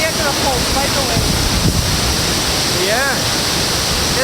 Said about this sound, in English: It's a miniature Niagara Falls.